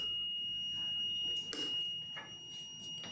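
A warehouse fire detection panel sounds its alarm buzzer, a steady high electronic tone held throughout, faint and continuous, with brief bumps and handling noises around it.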